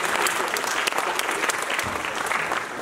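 Audience applauding parents at a music school's annual concert, a sustained, dense round of clapping from a hall crowd with a few sharper claps standing out and faint voices underneath.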